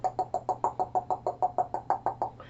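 Knocking on a door, about a dozen quick, evenly spaced raps in a steady run, close and clear with no voices over it.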